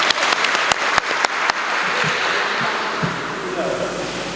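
A church congregation claps together in a dense burst of applause that thins into scattered claps and murmuring voices.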